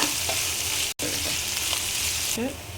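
Chicken perattu sautéing with salt in a pan, giving a dense, continuous sizzle and hiss with a brief dropout midway.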